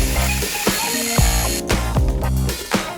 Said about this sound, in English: So I'm gonna have to grind them down a bit